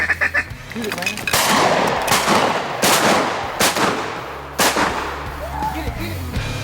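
Several sharp shotgun blasts ring out at irregular intervals, loud and close, with outdoor rustling and faint voices between shots.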